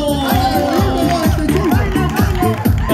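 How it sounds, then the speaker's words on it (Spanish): A crowd at an anniversary dance show claps in a steady rhythm along with the dancing, loud and close, mixed with crowd noise and cheering while someone speaks over it. "esas son las palmas del público"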